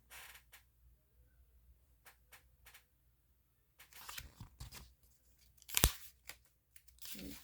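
Pages of a Pete the Cat picture book creak and rustle as they are handled and turned, soft scattered shuffles building to one crisp, louder page flip, with quiet pauses between.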